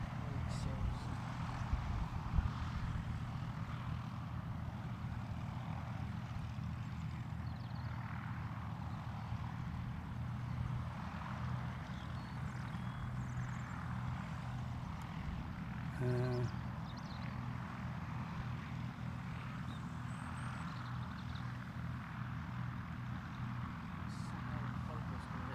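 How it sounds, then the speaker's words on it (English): Aircraft engines drone at Gloucestershire Airport as four aircraft line up, a continuous low propeller hum heard from a distance under steady outdoor background noise. "We got 4 aircraft lining up, Martin just said."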